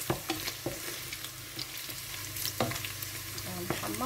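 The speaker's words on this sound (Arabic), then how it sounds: "شوفوا كيفاش راه محمر اللحم" Chicken meat browns in a pan with a close, steady sizzle, and a spoon scrapes and clacks against the pan at irregular moments.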